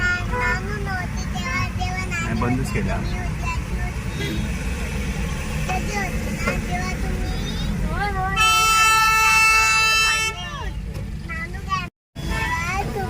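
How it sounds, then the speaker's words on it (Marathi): Heavy Saturday road traffic with engines rumbling and a long, loud multi-tone horn blast near the end, while people talk over the steady traffic noise throughout. "आज शनिवार असल्यामुळे ट्रॅफिक भरपूर आहे"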